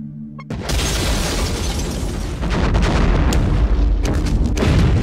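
A spaceship explodes in a film: a sudden, loud explosion bursts in after a brief lull, followed by a sustained roaring rumble with crackling debris and sharp pops.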